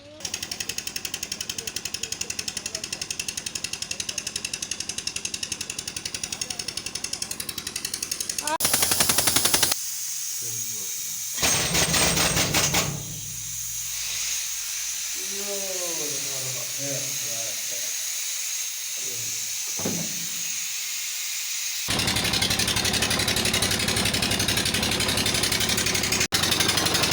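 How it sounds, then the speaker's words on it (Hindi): A hydraulic pressure drill hammers away at rock in an emerald mine. The rattling, jackhammer-like clatter comes in long loud stretches, broken by quieter gaps where faint voices can be heard. "ये हाइड्रोल इनके पास है प्रेशर वाली ड्रिल, उनके साथ ये लोग माइन करते हैं।"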